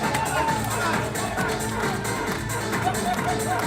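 An improv tournament crowd applauds and cheers a performer being introduced, a steady dense wash of clapping and voices throughout.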